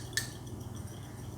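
A metal spoon gives one sharp clink against a small container while mixing jojoba oil, vitamin E oil and kasturi turmeric powder, then a quiet, steady low hum for the rest of the moment.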